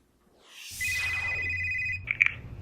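A telephone at a high school rings with a steady electronic tone that starts after a brief rising whoosh, followed by a few short chirps, clear and close with no talking.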